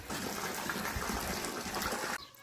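Water gushes hard from a borewell pump pipe at a newly installed submersible pump on a 265-foot well, the flow still dirty. A steady, loud, close rushing splash runs for about two seconds, then cuts off abruptly.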